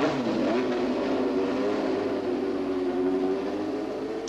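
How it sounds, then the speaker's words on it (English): James Hunt's Wolf Formula One car circulating slowly at Donington on a cold, icy day, a steady mid-pitched engine drone heard from a moderate distance, holding an even tone with a slight fade at the end. "So here is Hunt now going out in his new Wolf at Donington"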